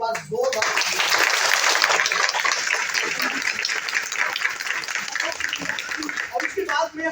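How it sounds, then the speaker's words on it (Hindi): An indoor audience at an Ayurveda company event breaks into loud, sustained applause that fills the whole span, dense clapping from many hands, with a few voices mixed into the noise. "तो मेरे लिए ताली नहीं, आपके लिए एक बार जोरदार।"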